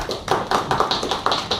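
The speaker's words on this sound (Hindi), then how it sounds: "जोरदार तालियां बजाइए।" Seminar attendees clap together in a loud, even rhythm, about seven sharp claps spaced evenly and close by, with no talking over them.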